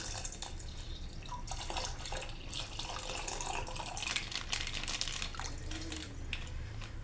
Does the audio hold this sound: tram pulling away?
no